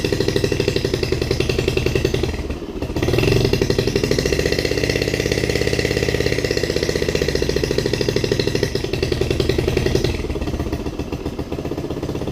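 A Honda 2.3 outboard motor runs loud and steady close by, its rapid buzzing drone holding throughout with a brief dip near the start before it picks back up.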